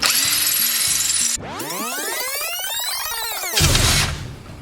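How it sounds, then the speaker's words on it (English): A power drill boring a small pilot hole whines at high speed, slows and winds back up in rising and falling pitch sweeps, then spins hard again near the end. "I like to drill a small pilot hole first"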